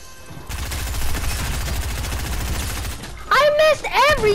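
Rapid video-game gunfire rattles as a sustained automatic burst, loud and dense, then cuts off as a sharper, tonal effect sound takes over near the end.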